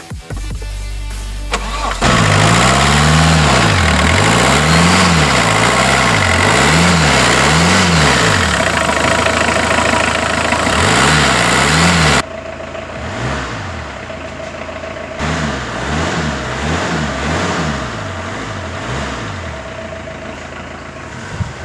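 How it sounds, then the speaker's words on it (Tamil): A Premier Rio compact diesel SUV engine cranks and catches, then runs loud and close with a steady rumble, pulsing through several rhythmic revs before settling to a quieter idle with more revving toward the end. "முடிஞ்சளவுக்கு இன்ஜின்லாம் ஸ்டார்ட் பண்ணி காமிச்சிருக்கேன்"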